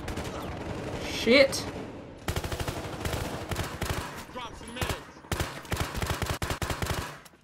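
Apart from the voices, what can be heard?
gunfire in video game Battlefield Hardline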